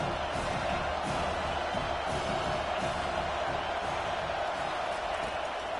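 Stadium crowd noise from a football video game forms a steady, dense wash of cheering and roaring, with no break in the sound.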